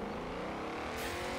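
A car in the racing video game Forza 7 accelerates with a steady, loud engine roar that climbs in pitch, a continuous dense drone with no speech over it.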